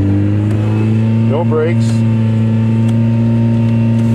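A 1990 Honda Civic engine with a sticking throttle holds a loud, steady high-revving drone, its tone barely changing throughout while someone speaks briefly over it.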